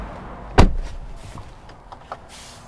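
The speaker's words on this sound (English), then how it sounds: "shutting the door here of the GLA35" Door of a 2021 Mercedes-AMG GLA35 shut from inside the cabin, one solid close thump followed by faint soft clicks and rustles in a quiet interior.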